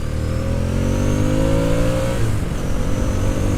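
A Ducati S4R motorcycle accelerates hard on open straights, its engine note climbing in a loud, continuous rising rev that peaks and then carries on at a sustained high drone.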